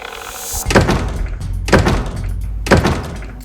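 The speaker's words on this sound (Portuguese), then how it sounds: "a porteira fazia aquilo sozinha, rangia e batia" A farm gate bangs shut three times at roughly one-second intervals, each a heavy, close wooden thunk with a short rattle.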